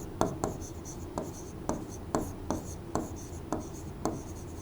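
A marker or chalk on a board during a Hindi-language physical geography lesson, making short, evenly spaced strokes about every half second with a faint room hum beneath.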